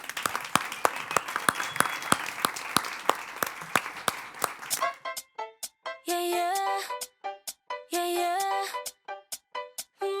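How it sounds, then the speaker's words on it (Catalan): A crowd applauds with steady, brisk clapping, then the clapping continues in sharp bursts as upbeat music kicks in. "Moltes gràcies. Un aplaudiment per a ells."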